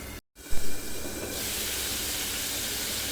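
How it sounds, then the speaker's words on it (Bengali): Ginger, garlic and onion masala sautés in a pan for an okra, potato and prawn curry, giving a steady, close sizzling hiss after a brief moment of silence. "এখন আমি ঠেকে দিয়ে মশলাটা আরও দুই তিন মিনিট কষিয়ে নিই"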